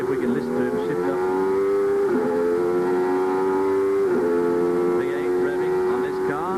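Formula 1 V8 race car engine screaming at high revs, climbing steadily in pitch then dropping sharply at each upshift, repeating about three times, loud and sustained with commentary speech running over it.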